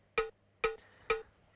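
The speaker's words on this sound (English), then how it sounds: "just a quarter note click on a cowbell" Three evenly spaced, bright metallic cowbell clicks tick out quarter notes as a click track, each short and sharp with a brief ring, fairly quiet and with no one speaking.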